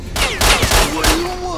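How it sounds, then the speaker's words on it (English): Pistol shots in STALKER: Shadow of Chernobyl, three sharp reports about a third of a second apart, each followed by a brief metallic ring that trails into a fading tone, loud and close. "This pistol I have sucks, but if you get real close and you can pull off a headshot"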